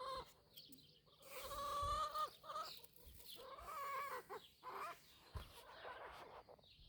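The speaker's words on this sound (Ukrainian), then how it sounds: "Там курки ругаються." Hens cluck and squawk nearby in a quiet outdoor garden setting, with several bursts of agitated calls spread across the clip.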